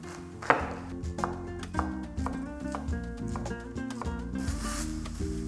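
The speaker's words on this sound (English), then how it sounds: "I might as well slice some cabbage" A knife slicing cabbage for a hot dog topping, with a series of soft rhythmic cuts against a board, partly under music, one sharper knock near the start.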